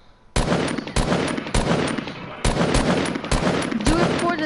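Gunfire in the Fortnite video game, sounding as a series of loud, sharp shots fired at a steady pace, each one ringing briefly before the next.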